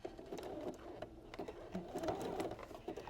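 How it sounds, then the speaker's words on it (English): A sewing machine runs a loose, open zigzag stitch down fabric being gathered, its steady mechanical whir and rapid needle chatter continuing close and moderately loud for a few seconds with no talking. "And I'm going to just stitch all the way down here."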